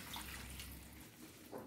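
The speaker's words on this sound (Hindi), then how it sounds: "अब हम इसमें पानी ऐड कर देंगे।" Water is poured into a pot of roasted quinoa on the stove, giving a faint, steady splashing trickle that fades after about a second, with no talking.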